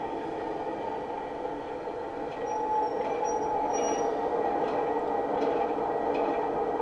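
Heljan O gauge Class 33 model diesel locomotive running on a rolling road, a steady motor whir and rolling hum with faint high squeals, slightly louder toward the end as it slows.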